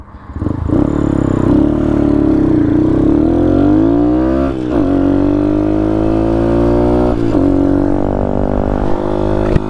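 Honda Grom motorcycle engine revving hard and continuously, pitch climbing and falling through repeated throttle blips, loud and close with no talk.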